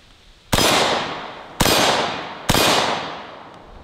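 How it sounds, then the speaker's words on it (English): Three sharp metallic impacts from AK-74 corrosive steel-core rounds striking a steel target, each a loud clang with a bright ringing decay, spaced about a second apart and heard alone. "You can see the sparks as it hits the steel target."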